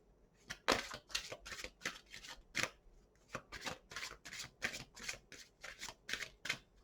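Rapid papery riffles and slaps of a tarot deck being shuffled, in a quick irregular run of bursts, close and fairly quiet.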